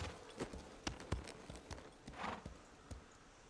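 Hooves clip-clop on a horse's walk in a Rings of Power fantasy drama scene, sounding as a string of sharp, uneven hoof strikes, fairly close and moderately loud, over a soft, low background bed.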